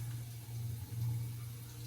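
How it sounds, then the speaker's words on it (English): Water runs steadily from a tap as produce is rinsed under it, a soft, continuous hiss and splash with a low hum beneath. "Rinse it off, maybe a little more thorough of a rinse there."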